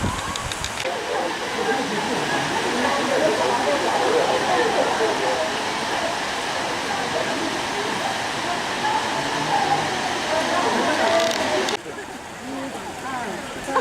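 Waterfalls near St Petersburg on a gloomy day pour in a steady, loud rushing roar that holds unbroken, then drops to a softer level near the end.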